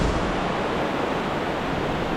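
The Miljacka river rushes through a natural karst tunnel, a steady broadband roar of flowing water echoing continuously without pause.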